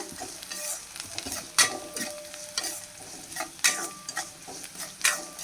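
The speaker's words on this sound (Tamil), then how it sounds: "இப்போது நல்லா வதக்குங்க." Food sizzles and crackles in a hot pan while being sautéed with salt, stirred with repeated scraping strokes and bright clinks of a utensil against the metal.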